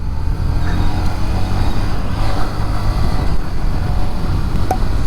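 Honda SP 125 motorcycle (2025) revving at full RPM while riding, a steady loud engine drone mixed with heavy wind rush on the microphone throughout.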